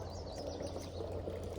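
Water trickling and draining out of a rifle suppressor on a DS Arms SA58 FAL after a mud puddle test at a shooting range, a soft steady pouring wash lasting under two seconds, faint and continuous.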